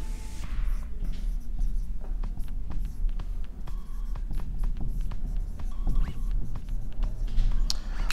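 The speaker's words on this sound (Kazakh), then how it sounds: "Мысал ретінде жазып көрейік." A marker or chalk scratches across a board during an organic chemistry lesson, producing a continuous close, rustling stream of strokes and taps with no speech over it.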